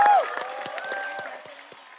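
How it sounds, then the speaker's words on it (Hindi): A studio audience at a television game show claps in scattered, uneven bursts under a lingering musical tone and faint voices, fairly light and thinning out toward the end. "सबसे ज्यादा जो सीनियर है उसके लिए जोरदार तालियां निशांत के लिए।"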